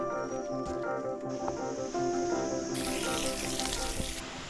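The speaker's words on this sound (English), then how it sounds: "Then we were off to see the sacred waterfall." Sacred waterfall in Amber Mountain National Park, Madagascar: a steady, broadband rush of falling water, heard continuously and fairly close, mixed with faint tonal background sound.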